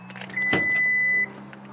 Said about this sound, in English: let's see which car has the faster trunk